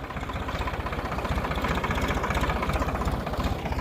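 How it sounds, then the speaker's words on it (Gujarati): Tractor engine running as it turns in a field during millet sowing, a steady close diesel throb with rhythmic pulsing, continuous and alone. "હવે ટ્રેક્ટર વાળે છે"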